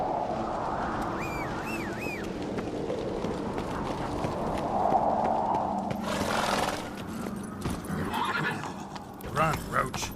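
Roach, the horse in The Witcher 3 video game, neighs and gallops with rhythmic hoofbeats close by, alongside game music and ambience, with a voice speaking briefly.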